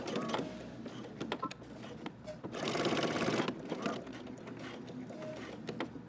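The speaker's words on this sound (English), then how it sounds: "then we're going to back stitch, cut your thread, and do another line of top stitching" A sewing machine back-stitching and top-stitching a Simplicity 8615 jumpsuit, a close, continuous motor whir and needle rattle that swells to a louder stretch midway before settling back to a steady run.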